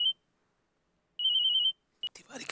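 A mobile phone ringtone sounds for an incoming call: a short clear electronic tone, then a longer steady ringing burst, followed by a brief chirp and rustling noise, with no voices.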